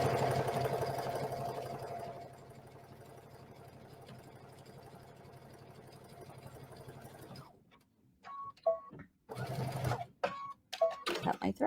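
A sewing machine runs a zigzag stitch along a towel seam, a steady rapid mechanical whir close by that stops partway, after which a person talks.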